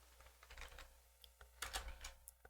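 Typing on a computer keyboard, heard as quiet, irregular key clicks close by, with a burst of faster keystrokes toward the end and no speech.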